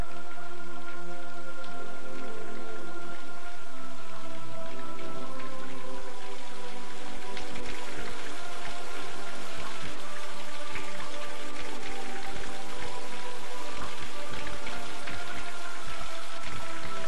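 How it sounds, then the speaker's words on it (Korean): Rain falls steadily on the Tripitaka sutra hall, a soft continuous patter with scattered drips, over a faint sustained tonal backing. "여름 농무가 자욱하면 이내 비가 내리고 장경전은 빗소리만 소소하다."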